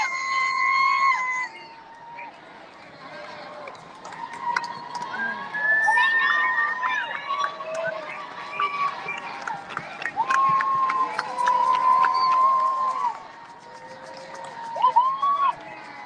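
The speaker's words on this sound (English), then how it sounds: "they're cheering as people march past" A street crowd at a "No Kings" protest in Charlotte, North Carolina whoops and shouts with lively, overlapping cheers as marchers pass, some high voices rising above the rest. The noise surges and eases over several seconds.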